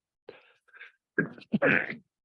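A single sneeze, preceded by a faint catch of breath and a short inhale, close and fairly loud.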